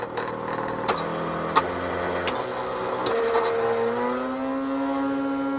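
A stepper-motor-driven glass lathe whines as it speeds up, its tonal hum rising steadily in pitch over a few seconds, fairly quiet with a few sharp clicks early on.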